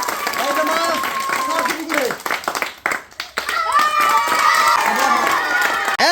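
Villagers clapping and cheering at the start of a hand fish-catching contest, a lively burst of scattered applause and crowd noise outdoors, mixed with someone talking.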